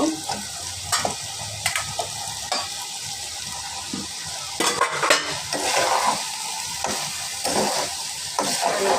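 Okra is added to potatoes already frying in a pan, and the pieces hiss and crackle continuously while a spoon scrapes and stirs in uneven strokes.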